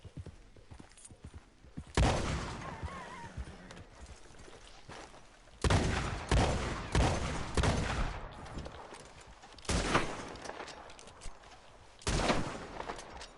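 Gunfire in the video game Red Dead Redemption 2: bursts of loud shots spaced across the clip, some in quick clusters, with quieter stretches between volleys and no talk over them.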